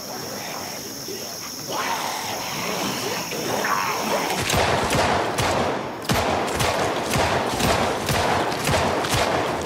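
Rapid gunfire in a police video game, a sustained burst of repeated sharp shots over a chirping night ambience.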